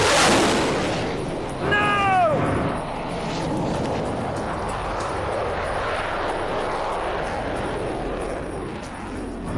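An airplane engine drones steadily during a race against a car, a broad continuous roar after a brief loud burst at the start, moderately loud throughout.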